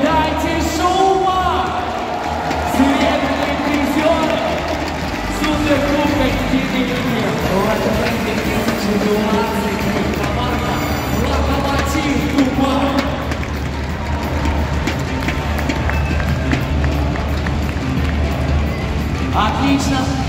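An arena crowd at a basketball Super Cup in Moscow cheers and roars continuously, a dense wash of voices and whoops, with an announcer's amplified voice speaking over it.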